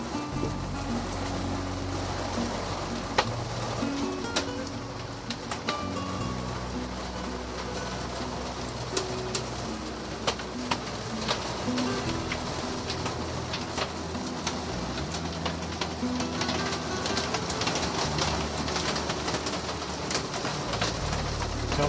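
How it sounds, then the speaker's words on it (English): Hail drumming on the roof of a canal boat on the Nivernais canal in France, a dense, continuous rattle of small impacts with occasional sharper hits, steady throughout and heard from inside. "That noise on the roof is hail."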